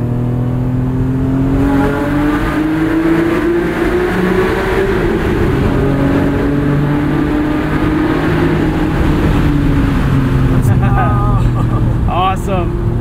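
A 1992 Acura NSX engine drones loud and close from inside the car while driving through a canyon, its pitch climbing steadily as it accelerates, with talking over the engine.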